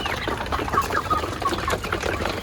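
Chickens on a backyard poultry farm cluck softly and continuously, a quiet, close, busy murmur of hens with no voices over it.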